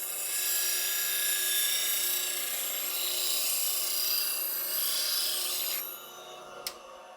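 A bowl gouge sharpened against a grinding wheel gives a steady, loud rasping grind for about six seconds, then stops abruptly, followed by a short metallic tick as the tool lifts away.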